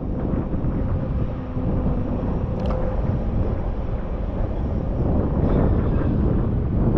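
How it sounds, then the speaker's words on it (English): Strong wind blows steadily at the Southampton docks, giving a constant, dense roar and buffeting against the microphone that never lets up. "I can feel it now, the wind where I am"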